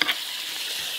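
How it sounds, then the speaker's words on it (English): Eggs sizzle steadily in a hot pan while being stirred and mixed, with a brief clink at the start and a continuous close frying hiss. "So I'm just cooking this, and I'm just going to start mixing this up together"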